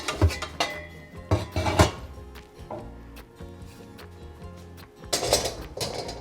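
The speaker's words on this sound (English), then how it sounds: "now let's get our wok out. I like using a wok for stir frying my noodles." A metal wok is pulled out and set down on a stovetop for stir-frying noodles, giving sharp clanks and clattering knocks in bursts, with a loud cluster near the start and another near the end.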